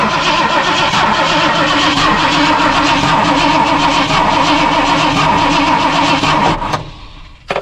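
A Ford 351 Cleveland V8 cranks on the starter in one steady, loud, continuous churning run that stops abruptly near the end.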